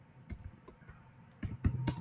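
Typing on a laptop keyboard while writing a Python print statement, heard as a few scattered key clicks early on, then a denser, louder burst of keystrokes toward the end, close and alone.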